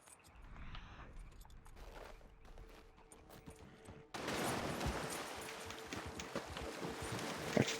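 A horse galloping in the Red Dead Redemption 2 online game: a steady run of rapid hoofbeats that grows sharply louder and denser partway through, over a busy layer of game ambience, with no talking.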